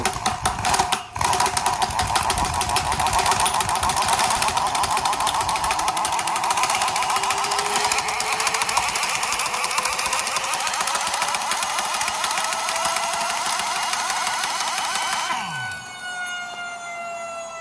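A Latham axial flow supercharger spinning up gives a loud mechanical whine rising steadily in pitch like a siren over several seconds, then cuts off and winds down quickly.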